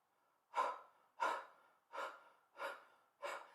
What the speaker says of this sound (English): So move rhythmically with the breath of fire. And your mouth, by the way, is in a O.